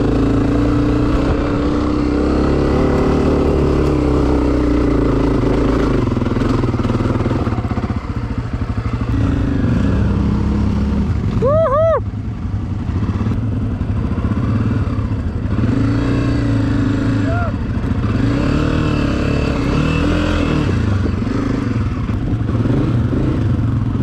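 A dual sport motorcycle engine drones loud and steady as it climbs a hill, rising and falling with throttle and clutch, continuous and close throughout.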